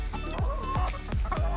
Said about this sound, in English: I've got a herd of chickens milling around my feet on every side.